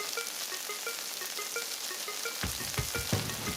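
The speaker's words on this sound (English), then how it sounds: "flip the shrimp over, then add garlic" Shrimp and garlic fry in a hot pan, a steady close sizzle that thickens into louder crackling and spitting partway through.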